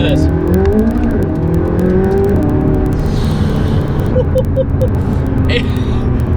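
A McLaren 570S Spider's engine revs loudly and close, rising and falling in pitch under a constant roar, with a voice talking over it.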